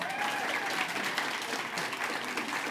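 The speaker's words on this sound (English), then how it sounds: "Give Bridie a round of applause." A studio audience at a television lottery draw show applauds, thick and even clapping held throughout at a steady moderate level, with a faint voice briefly audible beneath it.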